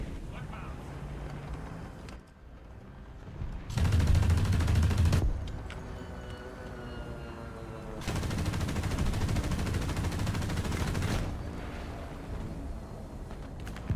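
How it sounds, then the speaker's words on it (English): Enemy machine gun fire in War Thunder tank combat, long sustained bursts of rapid gunfire that come and go in loud stretches, with a voice talking over the action. "And it's gonna kill me with this machine gun instead."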